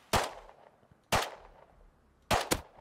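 Three sharp, loud gunshots in the video game Rust, spaced about a second apart, each a crisp crack with a short decaying tail, the last followed by a quick second report.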